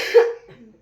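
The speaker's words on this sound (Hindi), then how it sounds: "इतना खांसी आ रहा है, खांसते खांसते उल्टी हो जा रहा है" A single harsh, close cough from a person suffering a persistent, severe cough, short and isolated with a brief rough tail.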